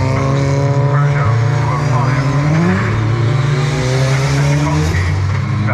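Race cars roll onto the track at a Cadwell Park time attack event, their engines droning loud and close in layered, continuous tones that shift in pitch as they accelerate.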